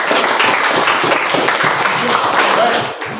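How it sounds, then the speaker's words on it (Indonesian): Classroom students give a classmate a round of applause before her presentation: dense, steady clapping from a whole room, close and fairly loud, with faint voices mixed in and a slight fade at the end. "Oke, tepuk tangan untuk Novi."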